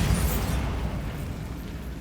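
A Bombarda explosion spell goes off in the video game Hogwarts Legacy, a short burst with a low rumbling boom that decays over about two seconds.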